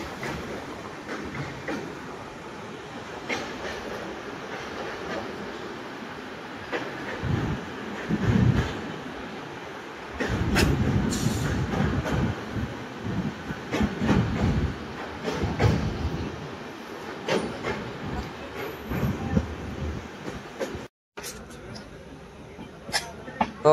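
Deccan Queen 12123 train on the Mumbai to Pune run in monsoon, a steady low rumble of rolling carriages with rattles and occasional clacks from the rails, continuous and fairly loud, with a voice speaking at points.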